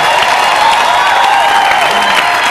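An audience at a comedy show breaks into sustained applause, a dense, even wash of clapping with some cheering that stays loud and steady throughout, with no speech over it.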